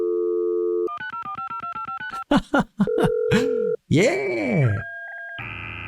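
A dial-up modem in the Last Call BBS video game dials out: a steady dial tone, a rapid run of DTMF keypad beeps, then squealing, warbling handshake tones and static, with a brief spoken word partway through.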